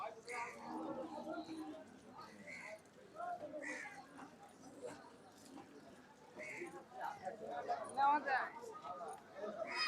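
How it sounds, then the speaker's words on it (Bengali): Cattle at the large Kamalapur cow and goat market, with several moos and lowing calls at a moderate distance amid continuous crowd chatter and a person speaking nearby. "ছোট ছোট গরু।"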